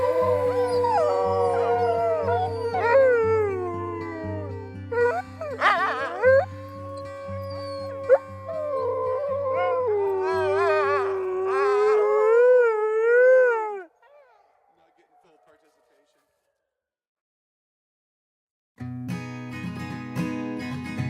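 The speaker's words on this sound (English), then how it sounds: "Hey dogs, you want to howl with me?" Several sled dogs at a winter trail camp howl together in a long, wavering chorus, loud and close, then fall silent for a few seconds before more howling and yips start up near the end.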